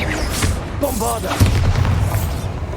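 Bombarda blasting spell going off in Hogwarts Legacy, a deep booming explosion with a sustained low rumble, mixed with game effects and a brief spoken voice.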